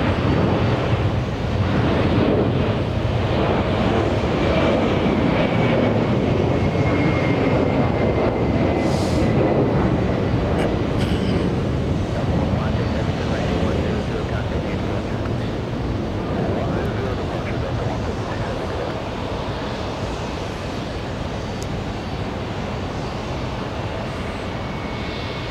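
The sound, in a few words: Delta airliner moving at JFK airport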